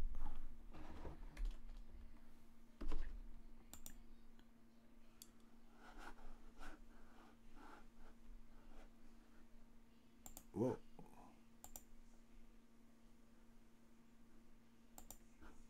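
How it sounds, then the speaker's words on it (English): Typing on a computer keyboard during a video game play session, soft scattered clicks and taps at low level with a few louder keystrokes, quiet and close. "I'm just like typing something."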